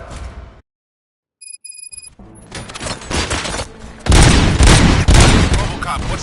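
Gunfire in the video game RoboCop: Rogue City, with a short electronic tone, then rising bursts of shots and booms growing loud and dense, mixed with game sound and voices.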